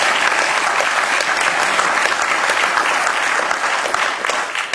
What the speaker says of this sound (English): applause would be okay